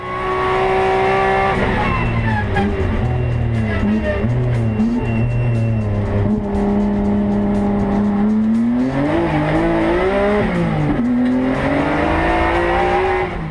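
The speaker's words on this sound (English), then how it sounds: "probably one of the nicest 240Zs in the country, all wide body by Freddie" A wide-body Datsun 240Z time attack car with an H-pattern gearbox revs hard and continuously, its engine pitch climbing and dropping through gear changes and throttle blips, loud and close throughout.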